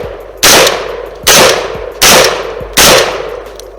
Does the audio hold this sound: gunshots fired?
yes